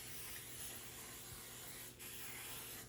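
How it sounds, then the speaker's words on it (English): A steady, close spray hiss of cooking spray from an aerosol can onto a cake pan, continuing for a few seconds, with a brief dip partway through. "I'm going to simply spray it with my cooking spray"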